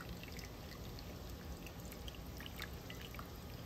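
Hot water poured over a whole chicken to tighten its skin, a steady close splashing trickle with scattered drips, continuous and alone.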